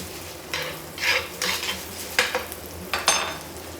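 Pork belly frying in butter in a pan, a soft continuous sizzle punctuated by scraping and clinking utensil strokes against the pan at irregular intervals, close and moderately loud, with no talking.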